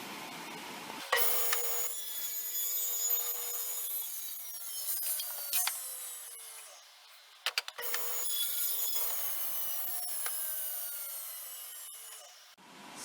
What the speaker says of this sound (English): I'm going to use a combination of my miter gauge and the fence to run all these through and remove the excess on these